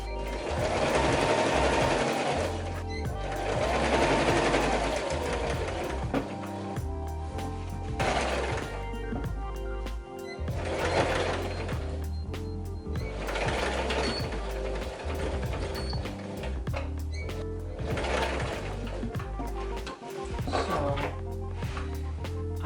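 A sewing machine stitches denim jeans being remade into a skirt, running in several rapid mechanical bursts with short pauses between them, close and steady throughout.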